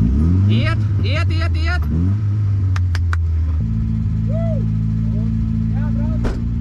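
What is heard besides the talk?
rally car engine being started with the starter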